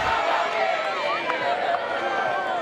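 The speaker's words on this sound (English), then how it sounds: "listen to their voices, hear the crowd sing" Stadium crowd singing and cheering at the women's final of the World Ultimate Championships on Australia's Gold Coast, a dense, steady mass of voices with faint tonal lines, and a commentator speaking over it.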